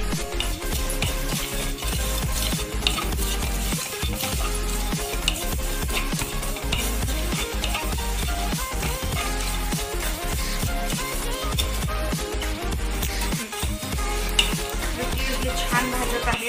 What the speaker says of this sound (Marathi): आता आपण याकडे तीळ भाजून घेणार आहोत।